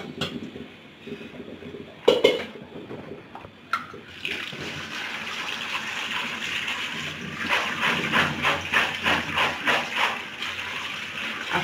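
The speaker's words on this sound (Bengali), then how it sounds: "অনেকটা ছাঁকনিতে ঢেলে নেব পানি ঝরিয়ে ঝরার জন্য।" Boiled chickpeas and potatoes tipped into a kitchen strainer, with a couple of sharp knocks early on, then a steady rush of water running and draining through the mesh, loud and close with no talking.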